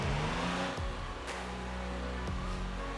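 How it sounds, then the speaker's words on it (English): A motorcycle engine revs hard as the front wheel lifts off the ground, a steady loud mechanical roar with a few sharp rises in pitch, close and alone. "Let's pull the front wheel off the ground."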